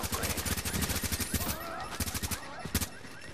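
Rapid bursts of automatic gunfire in The Division's Dark Zone, loud and dense, with sharp volleys crackling throughout and a few heavier single shots near the end.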